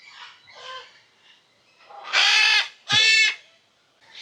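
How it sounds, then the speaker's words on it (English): Green macaws in Honduras beside a river give two loud, harsh squawking calls close by, preceded by softer chattering bird calls. "These are green macaws."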